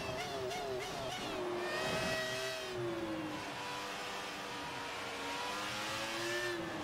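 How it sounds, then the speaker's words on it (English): A racing car engine in the video game F1 2018 revs and shifts pitch as it accelerates through a corner, with a rising, fluctuating whine and faint stuttering as traction control cuts power. "You can hear the traction control kicking in this car."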